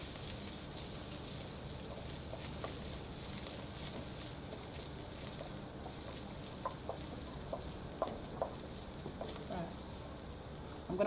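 Chicken and bacon frying in oil in a pan for carbonara, a quiet steady sizzle with faint crackles and pops over a constant hiss.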